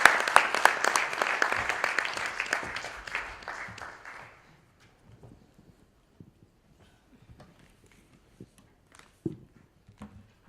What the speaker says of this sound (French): applaudissez bien fort Catalina